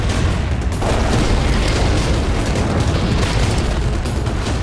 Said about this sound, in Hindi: आरपीजी से हमले कर रहे हैं।